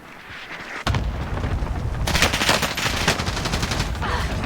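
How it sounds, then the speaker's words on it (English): Cluster airstrike in a video game: after a short quiet stretch, a sudden loud blast opens a dense, continuous barrage of rapid overlapping explosions and crackling booms that rolls on steadily to the end. "Airstrike here. Cluster strike inbound."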